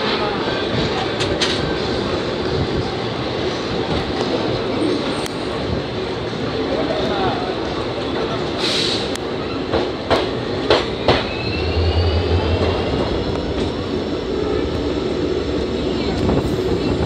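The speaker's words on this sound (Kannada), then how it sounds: "ಈ ಟ್ರೈನ್ಗೆ WDP-4D ಲೋಕೋಮೋಟಿವ್ ಇಂಜಿನ್ ಅಟ್ಯಾಚ್ ಮಾಡಿದ್ದಾರೆ." A 14-coach Kannur Express passenger train hauled by a WDP-4D diesel locomotive, running through a ghat section, gives a steady, loud rumble with rhythmic wheel clatter and a few sharp clicks over the whole stretch.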